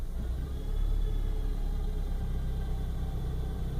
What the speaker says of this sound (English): the compressor is whirring like hell